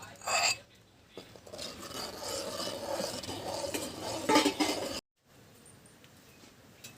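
Kadhi being stirred and mixed in a cooking pot with garlic-chili paste, a scraping, clinking stir that runs steadily for about five seconds, with a louder scrape near the start and end before dropping to a faint hush.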